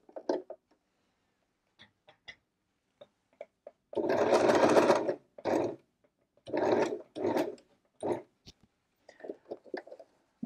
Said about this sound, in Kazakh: Бұл машинада біз өзіміз қадағалап тұру керекпіз тігісін.